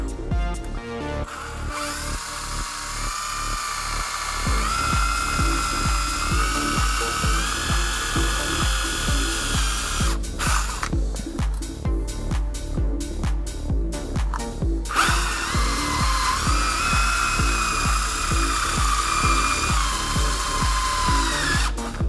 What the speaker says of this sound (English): Just gonna drill a little hole.